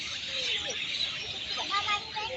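A crowd of small birds chirps and tweets together high in a tree at a playground in Singapore, a dense, continuous twittering chorus with quick overlapping calls and a few clearer whistles standing out.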